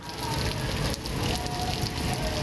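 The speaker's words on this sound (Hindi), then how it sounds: "कराची के मुख्तलिफ इलाकों में हल्की और तेज बारिश वक्फे से जारी है।" Rain falls steadily in Karachi, a dense continuous patter of drops on surfaces, heard up close with no voices.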